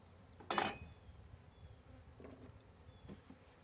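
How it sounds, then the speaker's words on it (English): Honey bees buzzing around a swarm box during a hive install, a loud close burst of droning wings early on, then softer scattered buzzing and faint knocks. "Plenty of bees in there."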